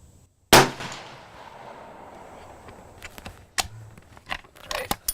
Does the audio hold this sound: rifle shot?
yes